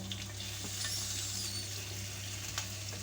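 Chopped green chillies, cubed onions and tomatoes frying together in a pan, a steady close sizzle with a low hum underneath and no talking.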